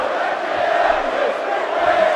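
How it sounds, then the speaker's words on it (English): Crowd chanting in the WWE 2K16 wrestling video game, a steady dense roar of many voices sustained through the whole stretch, loud and continuous with no pauses. "This crowd chanting accurately here when they said Bray is going to kill you."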